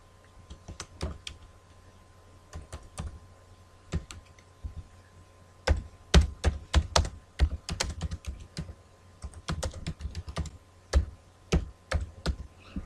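Keys on a computer keyboard clatter in uneven bursts while someone types into a spreadsheet cell, each click close, fairly soft and distinct against a quiet room, with no one speaking.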